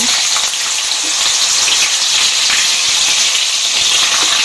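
Carrots hit a hot pan while cooking a dried loitka fish dish and fry with a loud, steady, hissing sizzle that fills the whole stretch without any voices.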